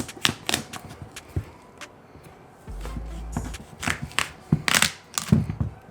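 A knife cuts through a raw butternut squash, making a run of crisp cracking and crunching strokes with short pauses between them, close and fairly loud.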